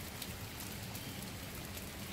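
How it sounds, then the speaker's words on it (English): Cold rain falls steadily on a flower garden, a continuous dense hiss of drops close by with no pauses and no voices. "I mean, this is good for the plants, but it's a cold rain."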